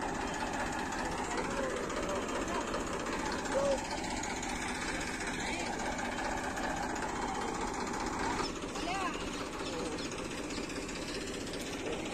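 A tractor engine roars steadily in an outdoor field with JCB digging work and a waterlogged, stuck tractor nearby, a loud continuous low rumble under scattered talking throughout.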